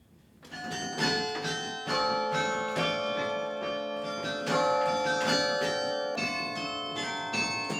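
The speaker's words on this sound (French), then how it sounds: "Un carillon programmé pour sonner tous les quarts d'heure, mais dont il peut jouer quand il le souhaite." Carillon bells in Bergues, France ring out a melodic sequence of overlapping, sustained tones, clear and resonant, with no voices.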